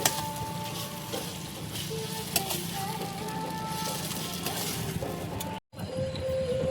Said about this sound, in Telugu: ఐదు నిమిషాలు ఇలా చిన్న మంటపై కలుపుతూనే ఉండాలి.